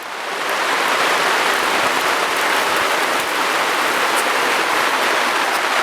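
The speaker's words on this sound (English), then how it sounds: "I bet that rain would sound even better inside the cabin if it was finished" Steady rain pours outdoors during a thunderstorm, a dense, even hiss of drops on surfaces that holds at a constant loud level throughout, with no voices.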